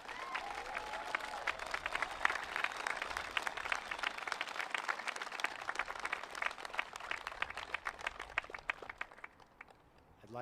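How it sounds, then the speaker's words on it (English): An audience at a Grade 8 promotion ceremony at The Harker School applauds the students, a sustained dense round of clapping from a large seated crowd that tapers off near the end. "Let's give our students and each other a round of applause."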